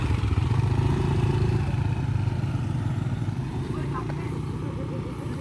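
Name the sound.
group of motorcycles passing on the road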